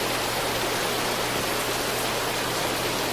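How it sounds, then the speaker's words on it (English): Heavy, blinding rain roars as a dense, constant hiss during a tornado chase near Prior Lake, with no pauses and no voices. "And blinding rain, of course."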